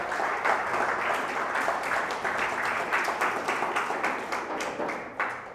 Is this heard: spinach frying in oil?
no